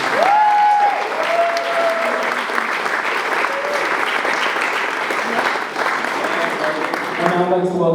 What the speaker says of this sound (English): Give a round of applause for Regan, please.